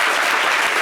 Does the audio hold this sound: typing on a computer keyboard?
no